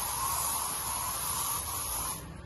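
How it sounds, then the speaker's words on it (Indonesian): Air freshener sprayed in a hotel room makes one continuous airy hiss that holds steady for about two seconds, then tapers off at the end. "setelahnya kita semprot juga di kamar ini."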